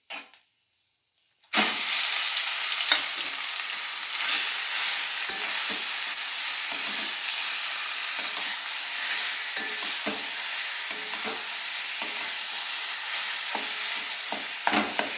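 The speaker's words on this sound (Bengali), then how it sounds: "এই যে তেলে একটু পাঁচফোড়ন তেজপাতা দিয়ে দিলাম, আর এই যে পেস্ট করে রেখেছি এই পেস্টটি আমি দিয়ে দেব।" After a brief silence, a ground paste hits hot oil already seasoned with panch phoron and bay leaf, bursting into a loud, dense sizzle. The sizzle continues steadily, with faint stirring taps and no voices.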